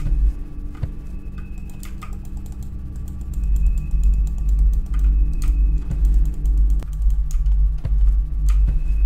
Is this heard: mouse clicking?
yes